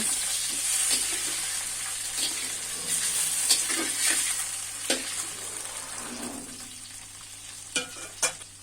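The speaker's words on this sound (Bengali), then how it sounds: "ঢাকনা দিয়ে ঢেকে ঢেকে মাগুর মাছ ভাজবেন" Magur catfish frying in hot oil in a pan, giving a steady broadband sizzle with scattered crackles and a few sharper pops and stirring knocks, close and fairly loud throughout.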